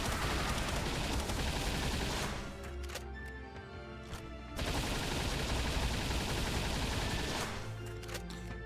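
Many rounds of gunfire from the video game Borderlands, a sustained dense barrage that drops briefly and then resumes just as heavy, loud and continuous throughout.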